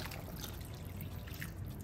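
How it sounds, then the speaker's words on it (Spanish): Water being poured into a pot of rice for yellow rice with pancetta, a steady close trickle running through without a break and no talking. "Entonces ahora echamos las 2 tazas de agua."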